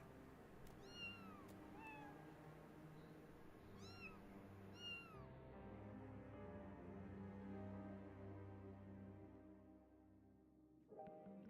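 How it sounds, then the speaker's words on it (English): Kittens mewing in several short, high, repeated calls, faint and close, clustered in the first half before fading out. "Kittens."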